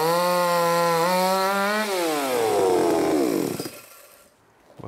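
A Chinese-made chainsaw, in first use and with a chain needing tightening, screams at high revs in a loud, close, steady whine, then its pitch sinks as the engine winds down toward idle.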